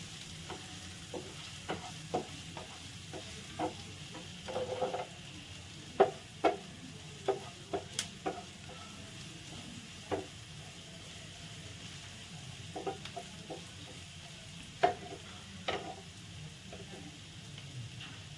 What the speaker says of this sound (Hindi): अब उसको भी अच्छे से भून लूँगी थोड़ा सा ब्राउन होने तक।